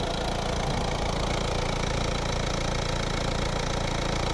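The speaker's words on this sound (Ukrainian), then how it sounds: "Ну, це робота двигуна. Відчувайте, як тихо рівно працює" A 2014 facelifted Peugeot 5008 with a 1.6 HDi diesel engine idles evenly, a constant dense rumble that holds steady throughout with no change in pitch or rhythm.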